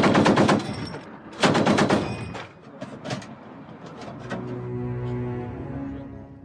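A heavy military weapon of the Kazakh special forces fires loud, rapid bursts of rounds, two long bursts followed by scattered shots and a lingering rumble.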